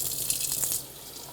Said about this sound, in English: And now we can fill it with warm water